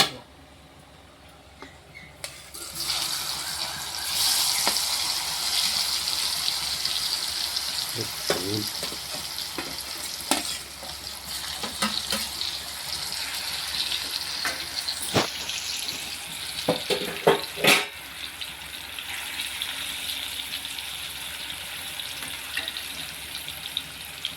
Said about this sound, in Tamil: இப்போ மிச்சம் உள்ள சேனக்கிழங்கையும் அதே மாதிரி ரோஸ்ட் பண்ணிடு